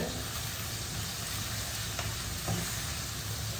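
Greens for a paarai fish curry are sautéed in a pan, giving a faint, steady sizzle with a couple of soft stirring touches and no speech.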